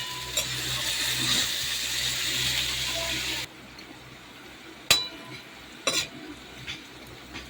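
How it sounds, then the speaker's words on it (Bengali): Potatoes frying in oil in a pan give a steady sizzling hiss for a few seconds, then the sizzle drops away, leaving quiet room sound broken by a few sharp clinks of a utensil. "আলুটা একটু ভাজা ভাজা হয়েছে"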